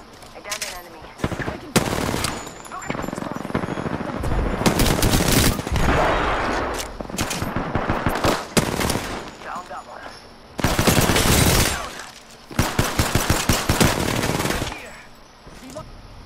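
Video game firefight with bursts of machine-gun fire and rapid gunshots, loud and close, coming in several long volleys separated by short pauses.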